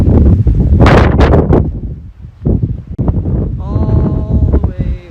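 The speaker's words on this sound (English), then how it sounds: "It's real windy up here." Strong wind buffets the microphone on a mountain top in Hawaii, loud rumbling gusts that rise and fall in bursts, with a voice speaking partway through.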